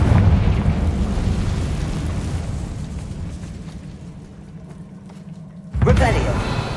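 Confringo blasting spell from Hogwarts Legacy bursts in a loud, boomy blast with a long rumbling decay, followed by a sharp second burst near the end, with a voice heard in the game.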